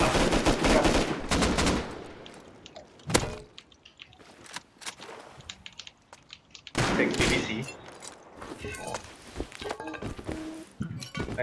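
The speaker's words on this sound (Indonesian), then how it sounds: "M249 dia tembak aku." Bursts of M249 machine gun fire in the survival game Rust, loud and close at the start, then scattered shots and further bursts later, with a player's voice occasionally heard in between.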